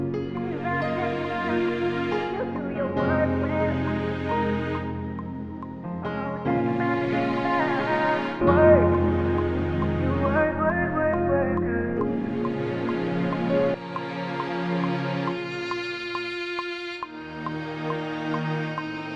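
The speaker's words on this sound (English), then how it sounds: "Starting with BBC Symphony Orchestra, and then I stack that with contact strings," Layered orchestral strings from BBC Symphony Orchestra stacked with violin and viola, playing slow sustained chords that swell and shift in a smooth R&B arrangement, moderately quiet with no voices.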